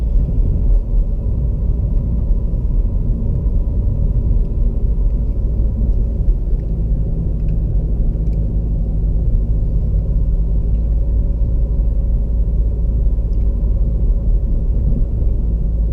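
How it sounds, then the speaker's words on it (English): Low, constant engine and road rumble from inside a remapped Seat Leon FR 2.0 TDI diesel hatchback cruising on country roads, an even drone without speech. "We're driving around on some country roads, you know, just enjoying it."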